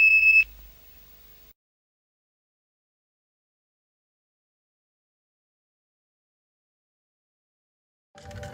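A smoke alarm gives a short, sharp beep that opens the clip and then fades into a long stretch of silence. A faint sound returns briefly at the very end.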